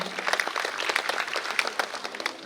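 Applause at a school award ceremony in Patna for a Class 7 student placed second at state level, a steady patter of many hands clapping at moderate loudness throughout.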